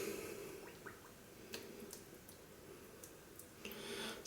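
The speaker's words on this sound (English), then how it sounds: "Wet the brush." A synthetic Wolf Whiskers Rite of Spring shaving brush with a 24mm uber soft knot is wetted under water, making a soft continuous trickle with a few faint drips and squishy clicks close by.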